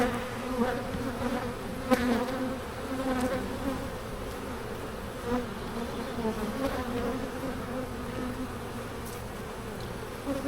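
Bees buzz in a dense, continuous drone during a large beehive inspection, close and steady with a few louder passes near the ear, and no talking.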